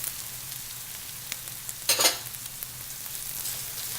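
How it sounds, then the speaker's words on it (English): Arborio rice stirred into a pan of softened, reduced mushrooms for risotto with pancetta, giving a steady soft sizzle with a louder burst of scraping and frying partway through, heard alone at close range. "And I stir that in just like if I was making a pilaf."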